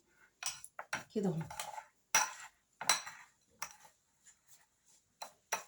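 Dough worked with oil and sugar in a kitchen bowl, intermittent scraping and tapping strokes in bursts, with brief speech between.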